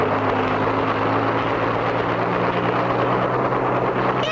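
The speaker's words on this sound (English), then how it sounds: "It worked, Clutch! We're flying! Just like a helicopter, Spinner." A cartoon flying contraption spins like a helicopter in a 1959 cartoon, giving a loud, steady whirring drone with constant low hum throughout, no voices.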